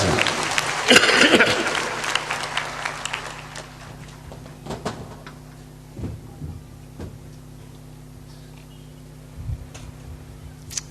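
An audience at a public gathering honouring the Bohra Muslim community bursts into loud applause at the start, then the clapping fades away, leaving scattered claps and light knocks in a quieter room.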